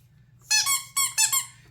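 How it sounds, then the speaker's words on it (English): Squeaky dog toys squeezed in a quick series of four sharp, high, whistling squeaks with a steady low hum underneath, close and fairly loud. "squeaky dog toys."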